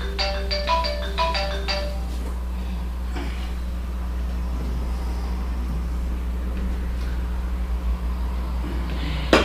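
A phone ringtone plays a quick melodic burst of tones at the start, heard over a low steady hum in a hall during a Buddhist dharma talk, then falls silent.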